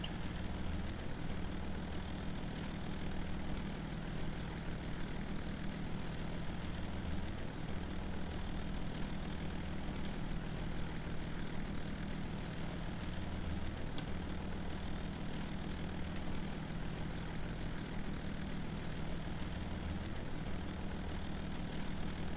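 Bomber aircraft engines during takeoff in a video game, a steady droning propeller hum with a low rumble, slowly pulsing and shifting in pitch, sustained and even throughout with no voices.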